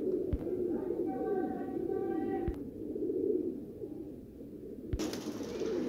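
Madrasi pigeons cooing near a coop, soft repeated low coos with a few sharp clicks and knocks in between.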